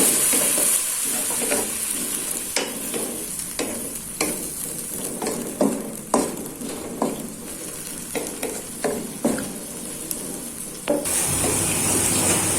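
Water goes into a pan of carrots and chicken cooking for rice porridge, bringing a constant sizzling hiss with repeated knocks and scrapes of stirring and a change in the sizzle near the end.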